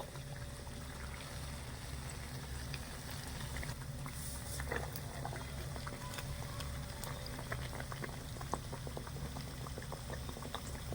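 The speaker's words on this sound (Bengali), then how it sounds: "এবারে হালকা হাতে তেলের মধ্যে ছেড়ে দেব" Breaded potato chops are lowered into hot oil and deep fry, giving a steady, dense bubbling sizzle with scattered crackles throughout, close and moderately loud, no voices.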